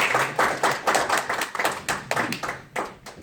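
An audience at a seminar or lecture applauds in a brief, brisk burst of clapping from several people nearby, with uneven claps.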